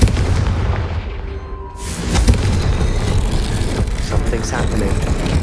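A Confringo blasting spell in Hogwarts Legacy erupts as a loud, booming burst around the two-second mark, with a rumbling low body and broadband crackle that holds over steady background game sound, while a voice speaks.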